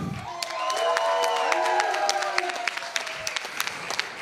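Concert crowd clapping steadily, with cheers and whoops swelling near the start and a dense, even patter of hands continuing throughout at moderate loudness.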